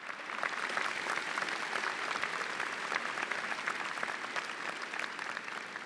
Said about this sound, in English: give another round of applause for all the moms here tonight celebrating Mother's Day